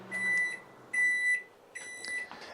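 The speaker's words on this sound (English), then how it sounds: "But it was able to microwave this water." Microwave oven heating water on off-grid battery power gives three evenly spaced electronic beeps, near and moderately loud, over a faint background hum.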